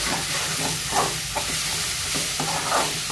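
Chopped tomatoes sautéing in a pan for chicken masala gravy, a steady broadband sizzle with periodic scraping stir strokes, close and fairly loud, no voices.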